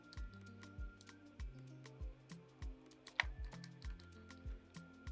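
Photoshop work at a computer: a steady run of about ten crisp keyboard Ctrl presses and mouse clicks, evenly spaced and close up, with a low hum beneath them.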